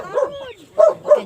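A dog at a rural countryside farm barks three times, close and loud, each bark sharp and separated by brief gaps.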